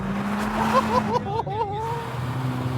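A road car being driven flat out at about 200 km/h on an automotive test track, a steady loud engine and road roar with rising gear-shift tones partway through.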